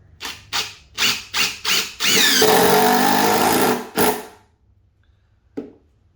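A DeWalt impact driver fires in five short, loud pulsing bursts, then runs in one sustained rattling whine for about two seconds, followed by a final short burst and a faint click, close up with no talking.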